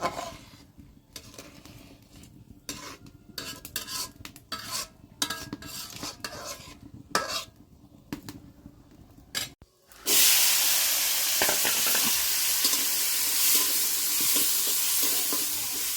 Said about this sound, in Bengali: মাছ দিয়ে দিলাম।